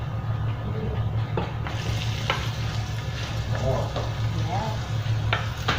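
Onions tipped into a pan with browned garlic for pork and chicken spring rolls, a continuous sizzle with scraping stirs and a low background hum, a brief spoken word heard once.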